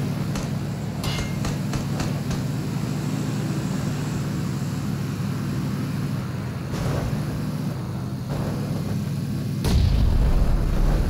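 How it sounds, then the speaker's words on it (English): Sharp gunshots in the video game PlayerUnknown's Battlegrounds crack at irregular intervals over a constant engine-like drone, with a heavier burst near the end. "Taking gunfire."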